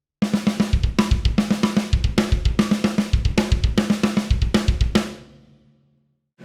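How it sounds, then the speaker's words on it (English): Drum fill on a kit, four-stroke ruffs with a tap with kick drum hits placed between the strokes, a dense driving stream of snare and bass drum that stops abruptly and rings out briefly, close, no voices. "Now, if you put kick drums in between that,"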